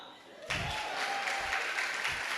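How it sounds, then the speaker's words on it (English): Applause breaks out suddenly at a festival welcome ceremony and continues steadily as a dense, crackling clatter of many hands clapping, with a faint tone running beneath. "Please clap."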